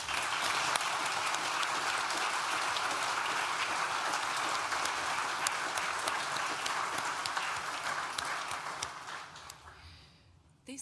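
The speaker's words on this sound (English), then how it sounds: "Please join me in thanking them with a well-deserved round of applause." A university graduation ceremony audience, School of Social Sciences, gives a long, full round of applause, dense and sustained for most of the stretch before tapering off into near silence at the close.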